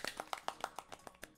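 Crowd applause in the archery event of Deca Sports, a Wii video game: a short run of about nine regular, fairly quiet claps, evenly spaced and fading slightly.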